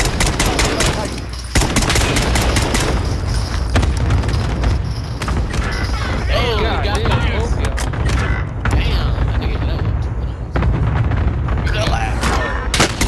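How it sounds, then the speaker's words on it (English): Dense Warzone game battle with a cluster strike: rapid bursts of gunfire and heavy booming explosions fill the whole stretch, loud and continuous, with voices talking underneath. "Enemy cluster strike incoming."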